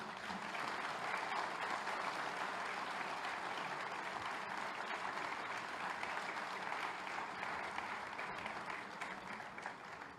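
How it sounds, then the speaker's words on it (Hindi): Loud, continuous applause fills an auditorium during a judicial services association conference, many hands clapping in a thick, even wash that barely dips across the whole stretch. "सभागार से अनुरोध करूंगी जोरदार तालियों की।"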